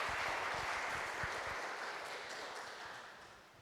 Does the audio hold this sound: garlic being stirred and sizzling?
no